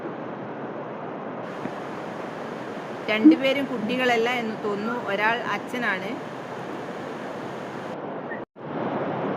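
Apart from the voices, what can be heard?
sea waves at Muzhappilangad beach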